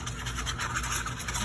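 Coloring on paper for a craft clipboard project gives a brief, steady, soft scratchy rubbing close up, with no talking.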